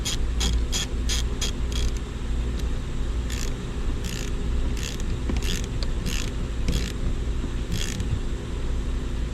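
A ratchet clicks in quick bursts while a bolt is tightened on a Ford Fusion rack and pinion, the rapid pawl ticks coming in short groups over a steady workshop hum.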